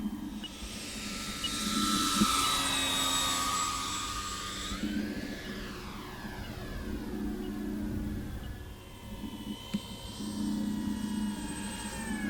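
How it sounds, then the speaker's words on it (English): A FlightLine RC F7F-3 Tigercat twin-electric model warbird flies past, its motor whine rising and then dropping in a clear Doppler sweep. A second, fainter pass follows over outdoor ambient noise. "there we have it, the FlightLine RC F7F-3 Tigercat"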